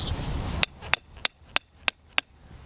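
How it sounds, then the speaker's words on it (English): Six evenly spaced, sharp metallic hammer blows drive a piece of rebar into garden ground. Each strike rings briefly and is close and loud, following a short burst of background noise at the start. "I can pound in a piece of rebar"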